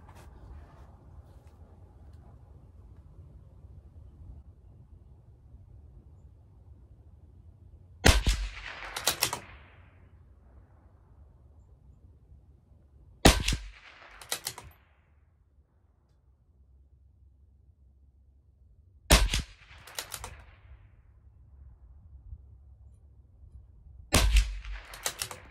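Four sharp, isolated shots from a CZ457 LRP rifle firing Aguila .22 Interceptor rounds at a 50-yard range, spaced several seconds apart, each a crisp crack followed by a short echo over quiet background.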